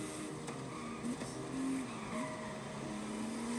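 A car engine in a racing video game drones steadily at moderate volume, with rising and falling engine tones and brief tire-squeal-like whines, no talking over it.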